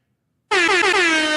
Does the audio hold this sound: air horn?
yes